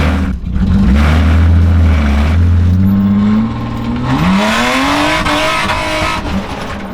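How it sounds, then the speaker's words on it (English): A budget BMW drift car revs hard with a loud, rattling exhaust while its tires squeal, then the engine pitch sweeps upward as it accelerates close by. "the reason the exhaust rattles so damn loud like that is because there's like, the exhaust comes out of the catalytic converters"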